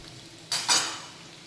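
Onions frying in a pan and being stirred, a steady background sizzle with a short scraping stir and a bright burst of frying about midway that fades out.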